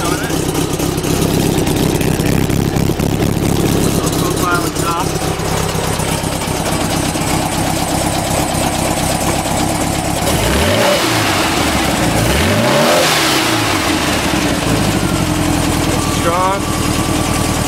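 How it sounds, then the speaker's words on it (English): A 1959 VW Double Cab engine fitted with dual 44 Weber carburetors and a vintage speed exhaust, loud and close, idling and then revving up twice in sharp rising bursts. "But dual 44 Webers on it. And I do have the vintage speed exhaust on it."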